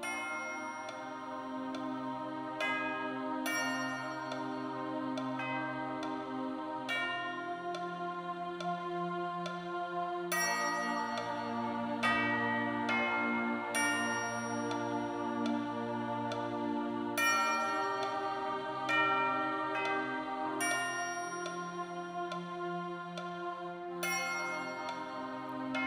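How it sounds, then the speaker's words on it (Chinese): A Shaolin temple bell is struck at slow, even intervals, each deep stroke ringing out and fading long before the next. It sounds calm and unhurried, with no talking. "钟声响了，要是响到第三遍，众师兄出来的话，他就走不了了。"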